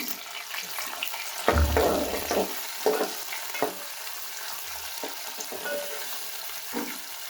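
Finely chopped onions hit a hot pan over high gas and sizzle steadily, with stirring scrapes and a few louder clatters; fairly quiet and close, with no talking.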